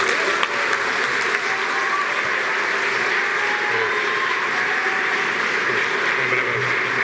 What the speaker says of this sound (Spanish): Deja que termine de aplaudir.